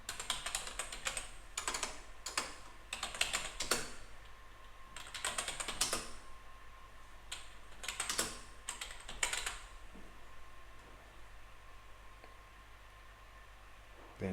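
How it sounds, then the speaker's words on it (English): Close, crisp keyboard typing in quick bursts as a command is entered on a computer, clusters of rapid clicks separated by pauses, fading into quiet near the end with no speech. "So I'll type anything."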